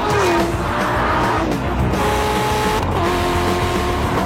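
A new Volkswagen Scirocco TDI driven fast, its engine note rising and falling loudly and close, with brief tire squeal as it pushes through the run.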